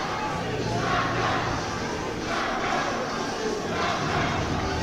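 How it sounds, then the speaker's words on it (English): A large arena crowd shouts and roars continuously at a girls' U18 Afrobasket basketball trophy ceremony in South Africa, with louder swells of chanting, a steady dense wall of voices throughout. "the crowd is shouting her name"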